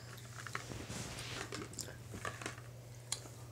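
Mike and Ike candy being chewed up close, with soft wet crunching and squishing bites repeating over a steady low hum, no talk.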